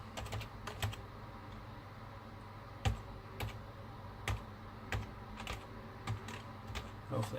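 Rapid, light keystrokes tapped out on a computer keyboard while entering a password at an Ubuntu 16.04 terminal, irregular clicks with a few sharper key strikes, close and fairly quiet against a low background hum.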